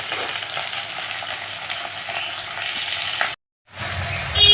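Tomato and onion fry in a pan with a bright continuous sizzle and some stirring, close and fairly loud, cutting out briefly before the crackle returns.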